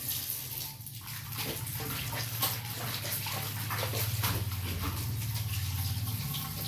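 Water pours and splashes steadily like a small waterfall on a hot day, a close, continuous rushing wash with a low churning undertone throughout and no speech.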